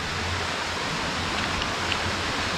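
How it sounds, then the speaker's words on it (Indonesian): Constant broadband rush of a clear river flowing near waterfalls at Mount Kampar, a steady even roar at moderate loudness with no voices. "Tengok guys, sungai yang cantik jernih."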